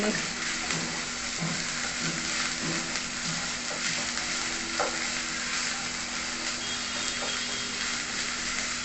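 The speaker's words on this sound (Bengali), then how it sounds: "একটু ভাজা ভাজা করে নেব।" Ginger-garlic paste and spices fry in oil for a spicy fish curry, a constant sizzle broken by soft scraping stirs at a fairly steady pace, with no one talking.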